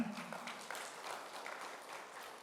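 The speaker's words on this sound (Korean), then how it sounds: "다시 한번 박수 한번 하겠습니다" Church congregation applauding during a Sunday afternoon service, a faint, steady patter of clapping hands heard from a distance throughout.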